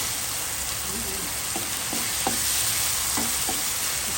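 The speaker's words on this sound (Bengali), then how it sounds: "এখানে আদা রসুন পেঁয়াজ একসাথে করা আবার একটু ভাজা দিয়ে নিই" Onion, ginger and garlic sizzle loudly in oil under a constant hiss, while a spatula scrapes the pan in several short, evenly spaced strokes.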